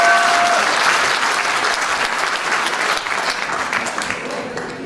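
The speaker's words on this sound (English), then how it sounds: "give a big round of applause" Audience at a Stars In Their Eyes talent show in Gisborne, New Zealand giving a big round of applause, a loud, sustained roar of many clapping hands that fades slightly toward the end, with a brief tonal sound at the start.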